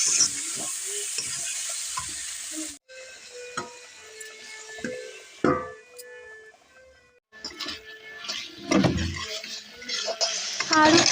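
Tomatoes and potatoes sizzle and fry in a pan with turmeric and salt, steady loud hissing broken by a spoon stirring and scraping against the metal.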